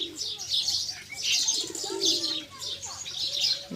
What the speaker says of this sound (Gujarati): કબૂતર પાણી પીવા આવ્યું